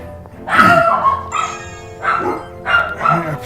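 Dogs bark indoors in several loud, close bursts, each a cluster of sharp yaps separated by short pauses, with no talking over them.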